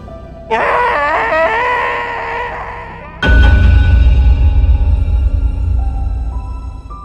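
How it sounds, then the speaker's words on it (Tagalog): A horrifying scream in a Tagalog horror story: a loud, wavering, high-pitched shriek lasting a few seconds, followed by a sudden deep rumbling boom that lingers. "nakarinig ako ng isang nakakakilabot na sigaw."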